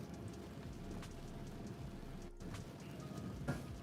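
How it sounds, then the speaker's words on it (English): Steady rain falling during a tornado storm in Arkansas, a close continuous patter on surfaces with occasional louder drops and low rumbling, no voices. "As you can see, it is raining"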